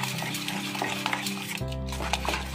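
Spoon stirring oats chilla batter mixed with salt and coriander-cumin powder in a bowl, a soft scraping and clinking that runs continuously and close up.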